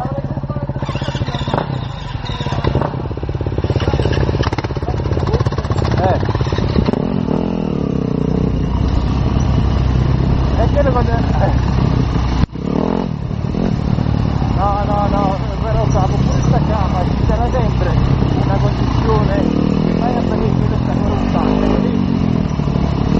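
An enduro motorcycle engine drones and revs continuously up close while being ridden, with clattering bumps and a voice talking over the engine noise.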